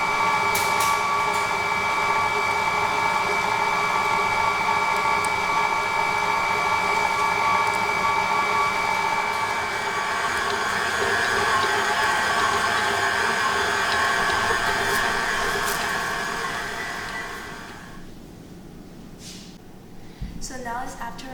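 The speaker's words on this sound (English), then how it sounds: "It's the time for us to mix them in the mixer." A stand mixer kneads bread dough in a steady, loud mechanical whir that holds for most of the stretch, then winds down near the end.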